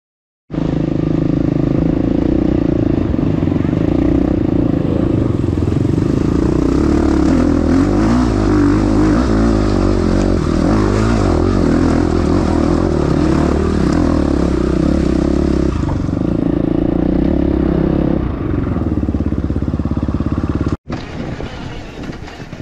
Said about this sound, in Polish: ale już słychać, że motory chodzą